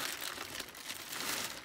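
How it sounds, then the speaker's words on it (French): Paper crackling and crinkling while a parcel is unwrapped, a short close burst of dry rustling texture without speech. "c'est le papier qui vient de craquer"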